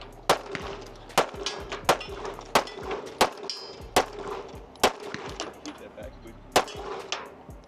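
Glock 17 pistol fired outdoors, about ten sharp, loud shots at a steady, unhurried pace, each with a short ringing tail, with faint background noise between.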